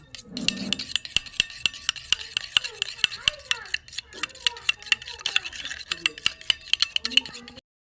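A fork or whisk beats a cracked egg with a pinch of salt in a bowl for katla fish balls, giving quick, steady clinks against the bowl, close and clear, with no voices.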